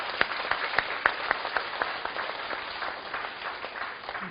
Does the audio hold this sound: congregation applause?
yes